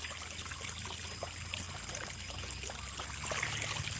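Water flows out of a one-inch pipe fed by a solar-powered pump on a backyard farm plot, a steady close trickle and splash running without a break, with no voices.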